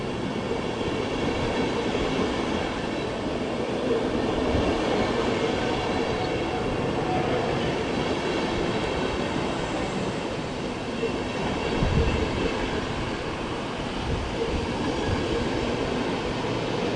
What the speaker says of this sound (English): Regional double-decker service to Siegen at Bahnhof.